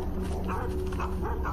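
A Tibetan Mastiff, a large native guardian dog of the Tibetan plateau, gives a few deep barks and whimpering yips outdoors against steady background noise.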